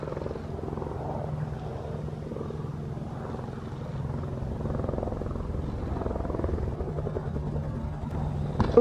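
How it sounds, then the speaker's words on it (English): A low, droning aircraft rumble hangs in the background, steady and distant-sounding throughout, with no voices. "Ooh, I hear planes."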